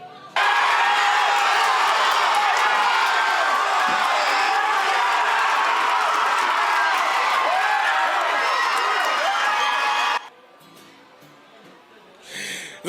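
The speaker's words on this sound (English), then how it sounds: "That was a roaring applause and excitement" A crowd at a Little League World Series watch party roars with loud, sustained cheering and excitement for about ten seconds, then cuts to quieter room sound with faint voices and a brief swell near the end.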